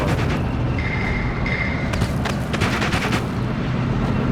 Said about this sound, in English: And they do have artillery, because that's definitely artillery.